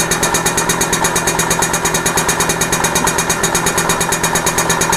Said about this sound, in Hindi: तो धीरे धीरे हमारा RPM बढ़ रहा है।